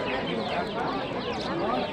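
Roosters and hens cluck amid the steady, dense hubbub of a busy livestock bazaar, with continuous crowd noise and chatter around the birds.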